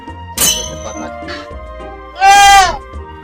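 A tethered goat bleats twice, a short cry early on and a louder, longer wavering bleat later, close by among faint background sounds.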